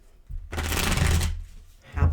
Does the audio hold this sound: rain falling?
no